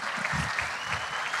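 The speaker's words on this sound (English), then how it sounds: "big round of applause for Justin" A brief round of applause from a crowd at a motorsport drivers meeting, steady clapping from many people, fairly close and even throughout.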